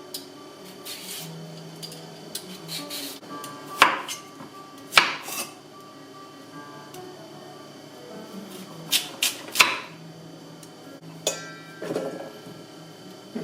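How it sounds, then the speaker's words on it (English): A knife cuts sweet potatoes into smaller pieces on a board, giving scattered sharp chops and clacks, a few louder strikes among softer cuts, with faint background noise between them. "Cutting my sweet potatoes into smaller pieces"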